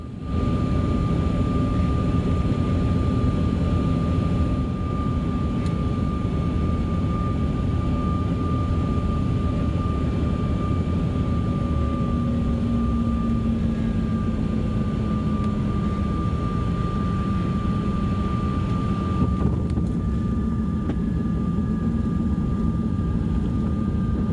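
A loud, steady drone of aircraft engines fills the whole stretch, a constant hum with a slowly shifting tone, heard from inside a jet airliner landing at Chicago O'Hare.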